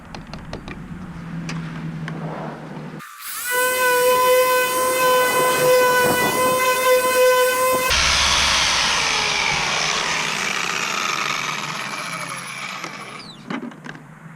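A car polishing machine set to speed 5.5 spins up after a quiet start into a loud, high tonal whine, then shifts to a rougher, broader whir before winding down and stopping near the end.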